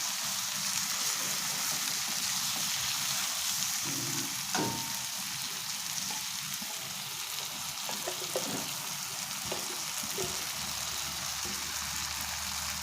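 Shrimp and sponge gourd sizzle softly in a pan, with faint, scattered scraping and tapping as the pieces are stirred and mixed, all fairly quiet and without voices.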